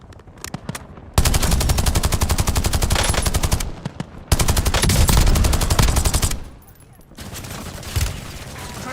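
Rapid automatic gunfire from Call of Duty: Warzone rattles loud and close in long sustained bursts, separated by short pauses and a few single shots.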